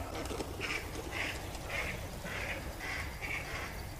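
Ducks quack in a regular series of about six calls, moderately distant, over a constant background rush of wind or water outdoors.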